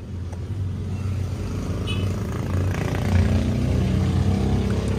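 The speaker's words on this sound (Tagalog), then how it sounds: "Unahin natin tong yung original na silencer." A steady low engine rumble from a motorcycle exhaust fitted with its original silencer, idling continuously at close range with no other sounds.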